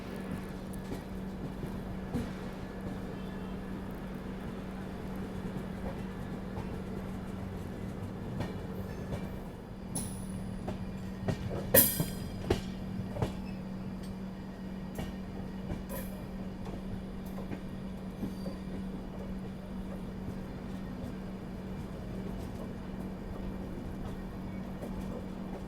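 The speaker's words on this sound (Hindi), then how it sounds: "चलिए फिलहाल अपनी ट्रेन का अराइवल हो रहा है दिगाना जंक्शन रेलवे स्टेशन में।" The Marudhar Express, hauled by a WG12 locomotive, pulls into Degana Junction station with a steady low rumble and a constant hum, and a few sharp clacks partway through. It is moderately loud and unbroken, with no talk.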